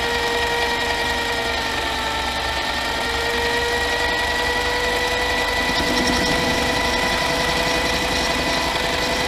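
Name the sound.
old Pratt & Whitney machine running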